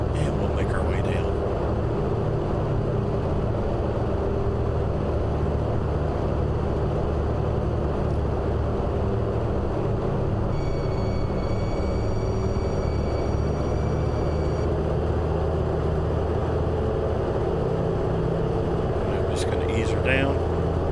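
Grumman Avenger piston engine droning steadily on a landing approach, a loud continuous low rumble with wind noise throughout and a faint talking voice over it.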